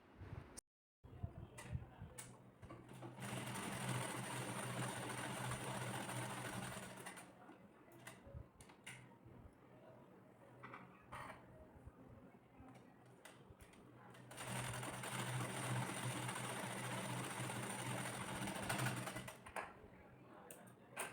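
A sewing machine stitches a blouse in two long bursts of rapid, even mechanical chatter, separated by a quieter stretch of clicks and handling noises, with someone speaking between runs.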